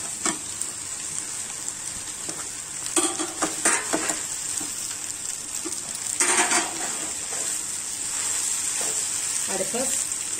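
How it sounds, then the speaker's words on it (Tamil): Idli pieces stirred in a pan with sautéed onions, a steady sizzling hiss broken by clusters of spatula scrapes and metallic clinks, close by. "நல்லா வதங்கி வச்சு இப்போ இதில் உப்பு வச்சிருக்க இட்லியை சேர்த்துக்கலாம்"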